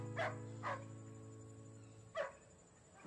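A dog barks twice, pauses, then barks again, moderately close, over a steady low electrical hum; no one speaks.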